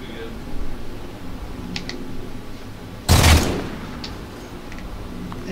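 Gunfire in the video game Halo 4, a single loud burst of shots near the middle over a quiet game background, with faint softer clicks around it.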